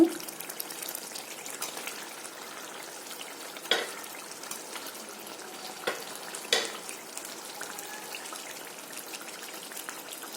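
Boiled potatoes being stirred through a fried spice paste in oil, a steady soft sizzle with a few light scrapes of the spoon, close and continuous with no talking.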